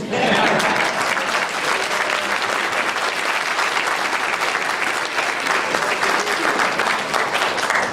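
Sustained applause from a large crowd honoring leader Jim Lemke at an evening political event, steady and dense clapping filling the whole stretch with no break.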